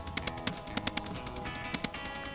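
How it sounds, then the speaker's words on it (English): Gunfire in the Space Engineers video game, a quiet rattle of rapid shots in irregular bursts heard at a distance over a steady mechanical hum. "It's gunfire going on behind me."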